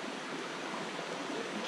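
An Ozarks creek near a campsite flows in a steady, close rush of water that holds even and unbroken with no pauses.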